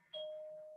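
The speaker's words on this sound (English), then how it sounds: "there's the doorbell." A single electronic doorbell chime in a home, one clear ringing tone that starts abruptly and sustains, heard faintly and alone.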